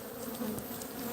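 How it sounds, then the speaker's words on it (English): Honey bees buzz inside a hive in a brief, steady, low droning hum, close and fairly quiet. "there's tons of bees down in there"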